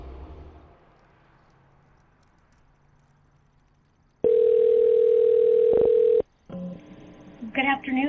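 A telephone dial tone sounds before an outgoing call. A steady, loud single tone holds for about two seconds after quiet room noise, then gives way to short dialing beeps.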